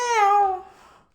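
A pet parrot imitates a cat's meow with a single short, tonal call that slides downward and fades, heard up close and alone.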